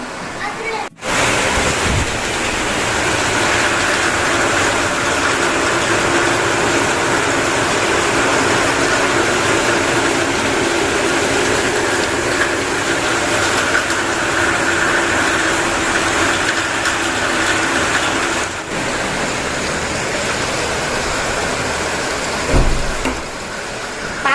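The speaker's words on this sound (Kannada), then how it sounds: "ತುಂಬ ಜೋರು ಮಳೆ ಬರ್ತಾ ಇದೆ ನನ್ನ ವಾಯ್ಸು ಎಷ್ಟು ಮಟ್ಟಿಗೆ ಕೇಳಿಸ್ತಾ ಇದೆ ಅಂತ ಗೊತ್ತಿಲ್ಲ ಸಿಕ್ಕಾಪಟ್ಟೆ ಜೋರು ಮಳೆ" Heavy rain pours in a loud, unbroken roar that fills the whole stretch and barely changes, with a couple of sharp knocks near the start and end.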